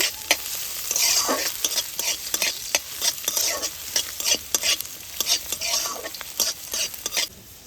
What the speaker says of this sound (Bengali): গাজরটা এবার একটু ভেজে নেব